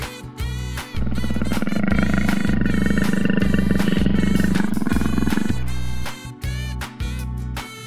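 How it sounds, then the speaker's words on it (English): A white tiger roars loudly and continuously for several seconds, layered over a steady, tuneful musical backing with no talking. "white tiger."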